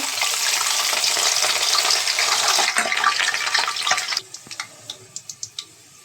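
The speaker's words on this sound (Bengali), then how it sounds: "আমার তেলটি গরম হয়েছে আমি এখন রসুনগুলো দিয়ে দিচ্ছি" Garlic cloves hit hot oil for a mango pickle, giving a loud, steady frying sizzle for about four seconds that then dies down to sparse, crisp pops and crackles.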